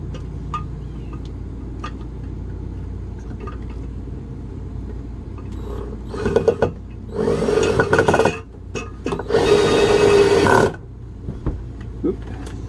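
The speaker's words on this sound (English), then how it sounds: "So I put this one screw in to hold everything in place while I drill the other holes." A power drill whirs in two bursts of several seconds each, loud and close, with brief clicks and handling noises around them.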